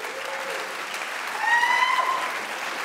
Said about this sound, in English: So a big round of applause to the mothers